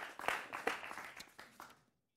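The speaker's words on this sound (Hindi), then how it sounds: "जोरदार तालियां उनके लिए" A studio audience at a Hindi political debate show gives a short, faint round of clapping, a few distinct claps that fade out after under two seconds.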